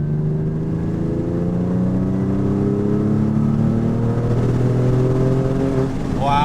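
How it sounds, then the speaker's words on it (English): A Porsche 911 with a freshly rebuilt engine pulling hard at full throttle, a loud close engine note climbing in pitch for several seconds before a sharp shift or lift near the end, with no talk. "Oh, that was full throttle."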